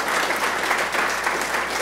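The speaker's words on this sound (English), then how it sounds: "Can we give him a round of applause" A steady round of audience applause for Carl at a talk on Vermont and space, a dense, even wash of many hands clapping with no pauses.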